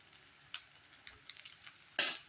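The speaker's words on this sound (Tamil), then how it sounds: "சாதம் போட்டு கிளறிடுங்க" Cooked rice for egg fried rice is stirred in a hot pan with a faint sizzle and soft scrapes, then a single louder spatula scrape near the end, close by.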